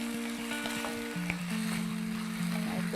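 Wheat rava frying in a pan, a steady close sizzle with faint stirring scrapes and a low hum from the stove or kitchen throughout.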